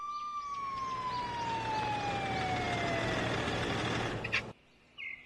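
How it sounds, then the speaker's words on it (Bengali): A police car siren wails steadily and loudly, its pitch slowly gliding downward over several seconds before cutting off abruptly near the end, leaving brief faint noises alone. "শূন্যপথে হঠাৎ করেই পুলিশের গাড়ির ঘর ঘর আওয়াজ ভেসে এলো।"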